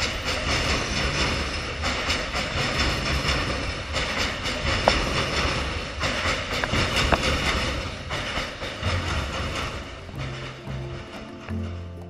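A loud train rumbles and rattles overhead for a long stretch with rhythmic clacking, gradually fading toward the end.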